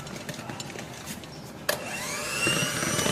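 An electric mixer starts up at low speed in cake batter, kicking on with a sharp click partway through and then holding a steady, rising motor whine after brief soft scraping; no one speaks.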